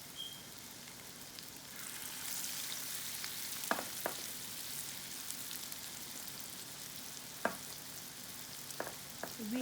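Falafel fries in hot oil with a soft, steady sizzle that runs throughout. A few sharp pops and spits of oil break through now and then.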